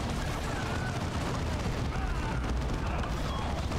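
Grenade blasts and battle noise in Warhammer 40K: Dawn of War 2: a dense, continuous roar of explosions and gunfire at steady high loudness, with no individual hits standing apart.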